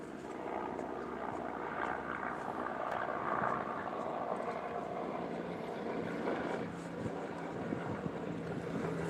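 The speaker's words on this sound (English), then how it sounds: "Oh, the news team is here in the helicopter." A news helicopter flies overhead outdoors, a low, steady rotor drone heard from a distance with some wind noise mixed in.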